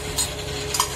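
Oil hissing and sizzling as two to three spoonfuls hit a hot pressure cooker, with a steady crackle and a couple of brief metallic clinks.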